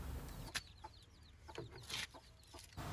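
A mother hen clucks softly among her chicks, whose rapid high peeps repeat close by in quick bursts, with a few light rustles.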